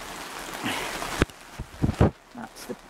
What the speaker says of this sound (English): You can hear the rain. Ooh, it is really raining today.